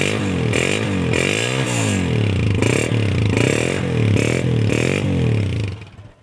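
A 2014 Honda 125 motorcycle engine idles loud and close with a steady, throbbing single-cylinder beat and slight revs, running alone with no voices before cutting off at the end.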